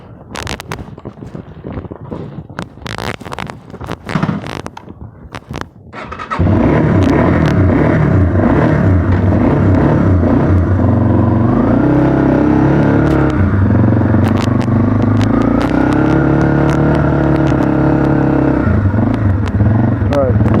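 A TW motorcycle engine cold-starts after sitting unridden for a couple of days: a few seconds of clatter and cranking, then the engine catches and settles into a loud, steady idle close by.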